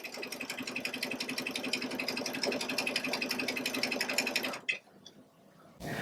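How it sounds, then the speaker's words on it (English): Baby Lock sewing machine stitching fringe with a fringe/looping foot, sounding as a rapid, even mechanical chatter that runs steadily for several seconds before stopping, followed by a faint click. "just stitch this all the way to the end"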